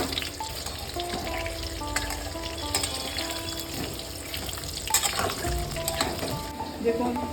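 Halved large potatoes fry in hot oil for Kolkata-style mutton biryani, a steady close crackling sizzle throughout with occasional clinks and stirring scrapes, no talking.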